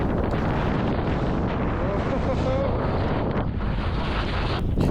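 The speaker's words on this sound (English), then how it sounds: "Beaver Creek had so much more snow and it was way more windy" Strong wind roars during a blizzard at Beaver Creek ski resort in Colorado, a loud continuous rush buffeting the microphone that swells and dips slightly throughout.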